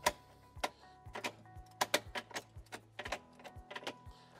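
Mountfield SP555V variable-speed combi lawn mower handle with one-click height adjustment, giving a string of sharp, close plastic clicks and ratcheting taps in an uneven rhythm, with faint low mechanical hum underneath.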